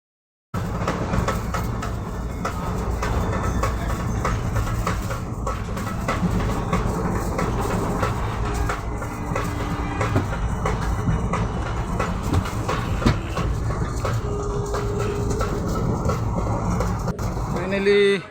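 A train pulls into Tinsukia station, a dense, continuous rumble with rail clatter and background crowd noise, loud and steady from start to finish before ending sharply.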